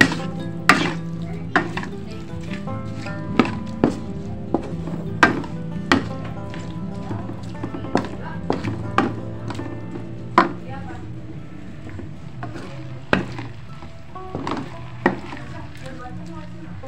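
Potato croquette filling stirred in a pan with a spatula, making a steady run of sharp taps and scrapes roughly every second, close and crisp over a soft background.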